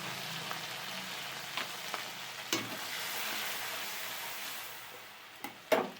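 Chopped tomato with chili, cumin and turmeric frying in a pan over tempered dried chili, bay leaf and whole cumin, a continuous hiss broken by a few clanks and scrapes of stirring.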